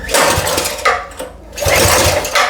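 A 212cc engine on a homemade motorized bike pusher revs in loud repeated surges, rising and dipping in pitch over a rough, buzzing drone.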